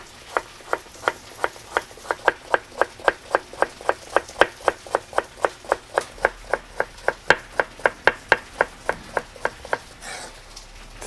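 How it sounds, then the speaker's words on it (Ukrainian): A knife cutting carrots into half-rings on a board: about forty crisp, evenly spaced chops in a quick steady rhythm, close and clear, then a short rustle near the end, with no talk. "Нарізаємо моркву, теж напівкільцями."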